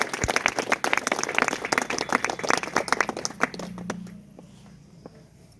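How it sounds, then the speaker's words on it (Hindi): Brisk audience applause at an indoor motivational talk, loud and crackling with many hands clapping. It thins out and fades to a low murmur after about four seconds. "जोरदार ताली"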